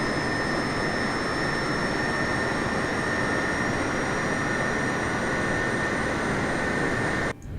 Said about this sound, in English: Just go and start engine number 2.